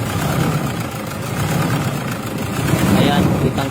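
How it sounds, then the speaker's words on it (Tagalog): A Toyota Fortuner engine misfiring and running at low power, an uneven, lumpy rumble at close range, with a voice talking over it. "kitang-kita natin na palyado talaga yung engine"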